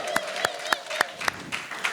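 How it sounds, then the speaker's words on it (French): An audience at an ACP league gathering in Paris claps as a federal president is introduced. About seven distinct, evenly spaced claps ring out in a brisk rhythm against a quiet background. "Sous vos applaudissements"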